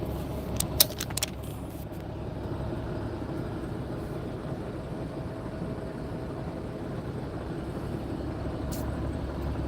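Ambience at a truck stop: a steady low rumble of idling and passing vehicles fills the background, with a few brief metallic clinks near the start and no talking.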